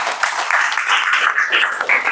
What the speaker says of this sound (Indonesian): terima kasih, kasih aplaus